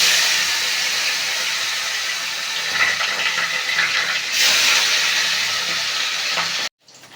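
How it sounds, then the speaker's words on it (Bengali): Fish frying in hot oil in a wok for a Bengali chorchori, a loud, continuous sputtering hiss that swells slightly partway through, then cuts off sharply near the end. "কড়াইতে তেল দিয়ে দিয়েছি, তেলটা গরম হয়ে গেছে। এবার একটা একটা করে মাছ ছেড়ে দেবো।"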